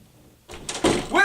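Doors bursting open in a stage performance of Hamlet, a sudden heavy thud and crash after a quiet start, followed by a raised voice shouting over the commotion.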